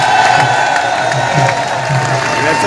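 An audience at a Gurjar festival stage event applauds loudly, a dense continuous wash of clapping with some cheering mixed in, close and steady throughout.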